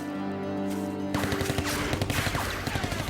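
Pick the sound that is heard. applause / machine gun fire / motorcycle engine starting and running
machine gun fire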